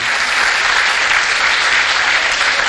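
Loud, unbroken applause from a church congregation, many hands clapping together in a thick, steady wash throughout.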